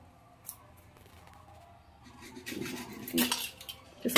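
Chopped ingredients soaked in turmeric water go into a pressure cooker: quiet metallic clinks and scraping of a utensil against the pot, building to a cluster of louder clatters near the end.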